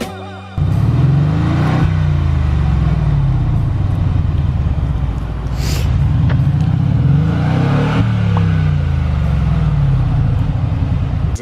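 A Mercedes G-Wagon's twin-turbo engine revs steadily and loudly from inside the cabin while driving up a mountain road, with the pitch rising and falling through repeated gear shifts.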